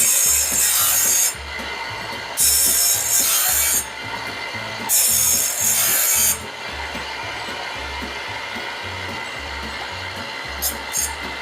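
A bandsaw blade being sharpened with an alternative to a commercial sharpener gives a steady grinding rasp under a rhythmic low chug. Louder bursts of high scraping come and go, with no speech.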